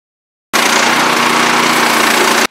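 A small portable sawmill engine starts abruptly and runs at a loud, steady buzzing drone for about two seconds before cutting off suddenly.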